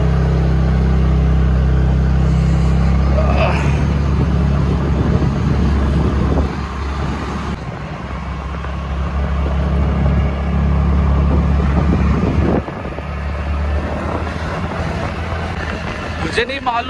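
A car's engine and road noise rumble steadily from inside the cabin while driving at night, a continuous low drone with occasional faint clicks.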